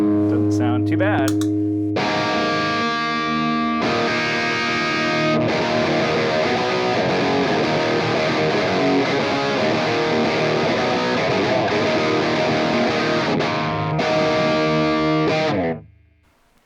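Heavily distorted electric guitar through stacked overdrive pedals, a 385 and a Sweet Honey, chugs punk-style chords steadily and loud for several seconds before the sound cuts off abruptly.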